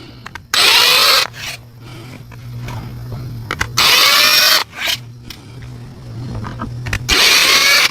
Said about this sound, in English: we're going to go for a very, very, very slow spin just to kind of widen out the top